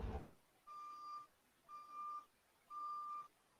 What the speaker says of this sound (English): I hear a truck backing up. Yeah, we hear a truck. Yeah, beeping.